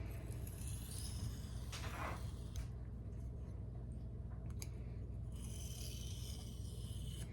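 An SPK Shark knife in Elmax steel is sharpened on an 800 grit stone. Quiet rasping strokes scrape in bursts over a low constant hum, faint and close.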